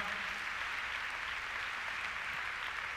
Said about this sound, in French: Vos applaudissements à nouveau pour les 3 meilleurs de ce prix GSF.